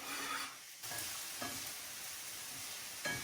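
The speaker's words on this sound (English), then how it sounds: "And now we're going to take our finely chopped onions and garlic, throw them into" Finely chopped onions and garlic hit a pan and sizzle, a soft continuous fry interrupted by a few brief scraping or stirring bursts, quiet and close with no voices.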